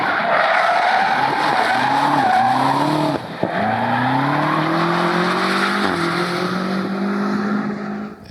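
A powerful BMW M5 (G30, 2019) engine revving hard, its pitch rising repeatedly between gear changes, with screeching tires layered over the loud roar.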